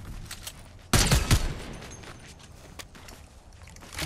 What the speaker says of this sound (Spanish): disparos por allá